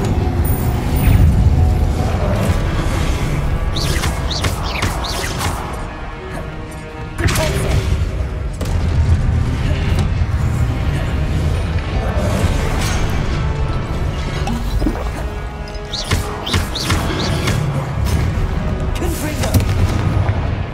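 In Hogwarts Legacy, the Confringo explosive spell and spell combat set off heavy booms and crashing blasts. They come in repeated bursts over a dense, loud game soundtrack.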